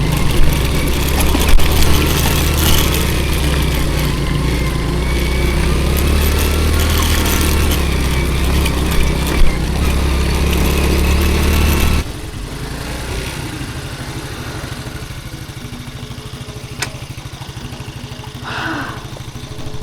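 A Honda CD70 motorcycle stopped on a rough mountain route from Kalam to Utror idles with a steady, buzzing low thrum for about twelve seconds, then cuts out, leaving quiet outdoor ambience.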